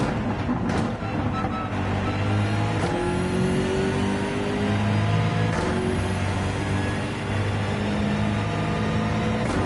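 Race car engine held at steady high throttle through a corner at Watkins Glen in Gran Turismo 7, a continuous loud droning whine with slight pitch shifts and no talk over it.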